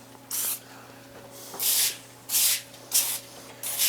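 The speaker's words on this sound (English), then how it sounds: "I'm gonna put a little cooking spray on that, everybody." Cooking spray hisses onto a foil-lined baking sheet in a home kitchen in five short bursts of about half a second each, close and loud over a faint steady hum.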